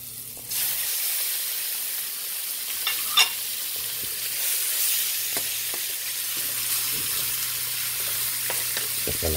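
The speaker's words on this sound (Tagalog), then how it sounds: "Lagay na rin natin yung ating pork." Pork goes into a hot pan and sizzles. A steady, close hiss begins abruptly and continues, with occasional stirring clinks and scrapes.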